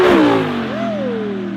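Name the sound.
Audi R8 V10 flyby with ARMYTRIX titanium exhaust, valves open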